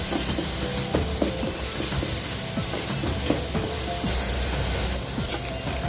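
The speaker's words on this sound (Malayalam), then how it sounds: "വെളുത്തുള്ളിയുടെയും ഇഞ്ചിയുടെയും പേസ്റ്റ് നമ്മൾ അരച്ച് വെച്ചത് നല്ലതായിട്ടൊന്ന് ഇളക്കി കൊടുക്കുക" Garlic-ginger paste fried and stirred in a pan for a spicy crab roast, a dense continuous sizzle with soft scraping and a few light knocks, close and steady throughout.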